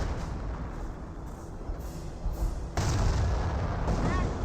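Battle din from the World War II strategy game Company of Heroes, with steady gunfire and artillery-like booms rolling over one another; the noise swells louder partway through.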